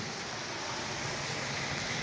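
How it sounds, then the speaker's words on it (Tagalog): Steady rain falling outside a rocky cave shelter along a stony shoreline, a dense, even hiss that holds without a break at close range and moderate loudness, with no voices. "Safe tayo dito sa ulan."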